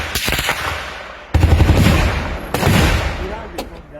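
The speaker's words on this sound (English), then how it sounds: "There is an exchange of fire right now." Bursts of gunfire ring out in an exchange between troops and armed fighters during a military raid in Imo State, loud and sustained with sharp cracks and rolling echoes, voices faintly mixed in.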